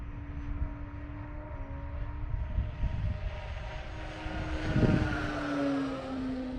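An E-flite Carbon Z T-28 electric RC warbird flies by at speed, its motor whine climbing in pitch and swelling louder as it approaches, then sweeping past under light wind noise.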